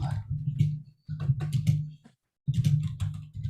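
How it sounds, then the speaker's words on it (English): Someone types on a computer keyboard, producing close bursts of quick clicking keystrokes broken by a short silent pause before another run of typing. "I'm just typing with Mike in the chat."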